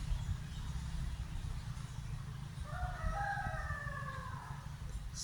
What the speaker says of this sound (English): rooster chicken crow,